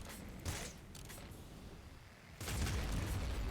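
Explosions in the top-down shooter Nuclear Throne: a sharp boom near the start, then a second, louder blast that rumbles on to the end. No one speaks.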